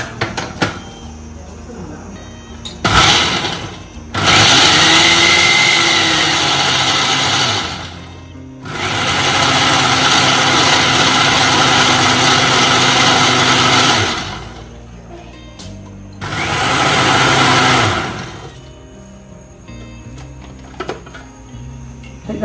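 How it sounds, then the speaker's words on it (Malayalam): A mixer grinder grinding coconut with curd runs in three loud whirring bursts separated by short pauses, with faint clatter between runs. "ഇനി തൈരും കൂടി ഇട്ടിട്ട് അരക്കുക."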